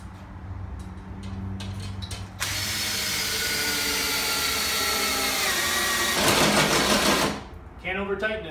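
A Kwikpole torque-limiting socket rod drives a Sammys threaded-rod anchor into wood, a close, steady mechanical whirring that runs for several seconds, then gives way to rapid ratcheting clicks and a few short whirs as it stops.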